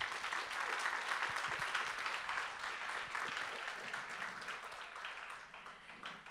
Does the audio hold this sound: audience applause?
yes